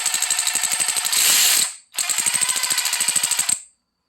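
A Milwaukee M12 or DeWalt 12V 3/8-inch cordless ratchet runs in two close, loud bursts of rapid, fine, evenly spaced clicks separated by a brief pause, with no talking.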